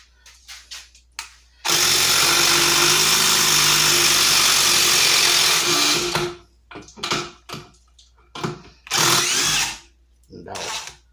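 An impact driver whirs loudly and steadily for about four seconds driving a screw, then short bursts and brief speech follow in the gaps.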